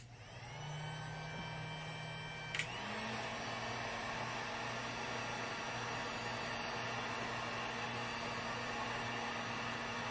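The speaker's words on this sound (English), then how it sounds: "I could give it a super quick hit with the heat gun." A heat gun blows over freshly poured acrylic paint on a canvas, a steady broadband whoosh with a constant motor hum that runs unbroken and fairly loud, with one brief click shortly after it starts.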